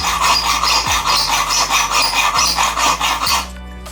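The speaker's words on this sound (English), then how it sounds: "What we'll be doing is simply making a slot straight into there" A blade cutting a slot into a stripped screw head, with loud, close, rhythmic back-and-forth rasping strokes that run continuously before stopping abruptly near the end.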